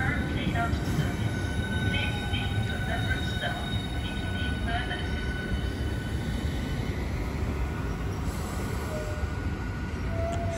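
A Southeastern Class 395 train departs Ashford International with a steady rumble of wheels and rail noise, with thin metallic squeals riding over the continuous roar.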